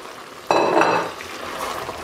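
A spoon stirs veal stew with cherry tomatoes in a pot, one quick scraping, sloshing stir followed by a steady simmering hiss.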